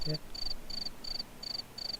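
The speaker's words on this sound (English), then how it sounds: "Play crickets, dude. I like the sound of crickets." A cricket chirping sound effect: steady, evenly spaced high-pitched chirps repeating about every third of a second, quiet and alone.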